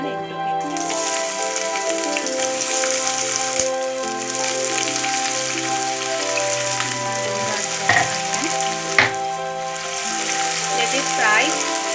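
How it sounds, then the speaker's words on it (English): Chopped onion fries in a few tablespoons of hot mustard oil with a steady, close sizzle. Faint utensil clinks from stirring sound twice near the end, and the frying runs on without speech. "Let it fry for some time till it becomes translucent."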